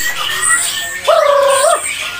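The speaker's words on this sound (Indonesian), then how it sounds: "Kita bisa dengar bareng-bareng ya untuk materi isinya ini warga kenari" A white-rumped shama songbird at a bird market gives a single clear, sustained whistled note lasting about half a second, loud and close over faint background noise.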